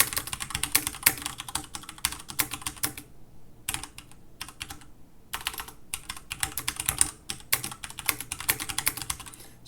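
Java code being typed on a computer keyboard produces dense bursts of rapid key clicks in close, quiet detail, separated by brief pauses, with no voices.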